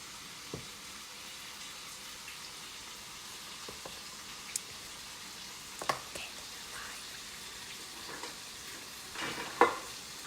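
Flour stirred into hot ham grease in a skillet gives a faint, low sizzle, broken by scattered soft scrapes and clicks of stirring, quiet and close.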